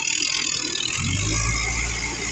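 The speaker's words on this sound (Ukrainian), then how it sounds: "Однокольосний тракторець, адже немає блокіровок" A single-axle walk-behind mini tractor engine, used with a plough, idles nearby at autumn's end with a steady rattling drone that deepens and grows louder about a second in.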